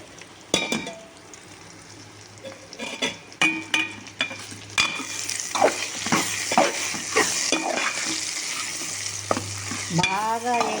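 Broad beans curry with chilli frying in a pan, a soft sizzle under repeated scraping and clinking stirring strokes of a metal spoon, close and irregular, with no talking.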